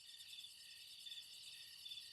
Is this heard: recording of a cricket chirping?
yes